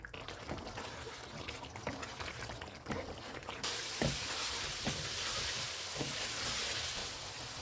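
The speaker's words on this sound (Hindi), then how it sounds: "चूल्हे को फुल कर देते हैं और ऑयल अलग होने तक इसको भूनेंगे।" Chicken makhni karahi frying on full flame, a dense continuous sizzle and bubbling that grows louder partway through, with a few soft knocks of a utensil; no talking.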